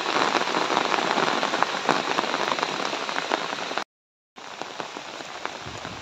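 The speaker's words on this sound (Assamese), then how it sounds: "বৰষুণ পৰি আছে" Heavy monsoon rain pouring steadily, a dense, loud hiss of drops on surfaces near a pond and house, cut off by a brief silent gap before resuming.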